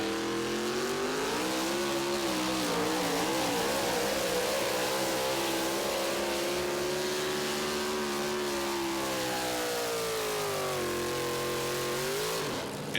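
A four wheel drive pulling truck from Fillmore, Indiana makes a pass at a truck and tractor pull in Tomah, Wisconsin, its loud engine roaring steadily for the full run with rising and falling pitch and no talking over it.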